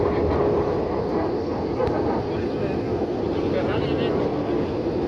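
An Avianca Airbus A320-233 approaching and landing at Managua, Nicaragua, its gear coming down; a steady, loud broadband jet roar fills the whole stretch without fading.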